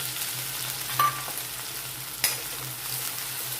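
Green garlic, dried red chilli pieces and bay leaf sautéing in hot oil for Gujarati Rajwadi khichdi, a steady low sizzle with a couple of brief stirring clinks, close and alone.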